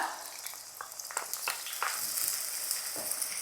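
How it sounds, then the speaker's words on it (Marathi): Onion drops into hot oil in a wok and fries with a bright crackling sizzle, a few sharp pops early on settling into a steady hiss, close and moderately quiet. "तेल तापलंय त्यात टाकूया कांदा"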